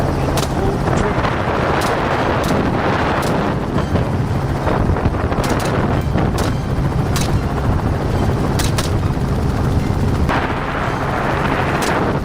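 A helicopter hovering over a wild boar hunt gives a loud, continuous rotor roar with wind buffeting, broken by sharp rifle cracks fired from the aircraft.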